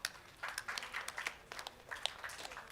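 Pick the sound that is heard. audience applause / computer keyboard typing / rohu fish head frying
audience applause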